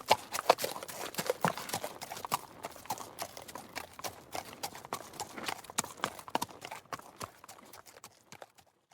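Horses walk along with crisp, irregular clip-clop hoofbeats, close and fairly quiet, steady over several seconds with no talk.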